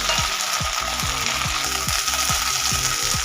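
Cut okra lightly frying in oil, a bright continuous sizzle close up, accompanied by a regular low mechanical clicking pulse repeating about every half second.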